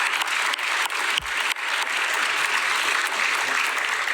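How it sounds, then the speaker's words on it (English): Audience at a Student of the Year awards dinner gives a long, steady round of applause for the students, dense clapping throughout with a few louder claps near the middle. "give them a big round of applause"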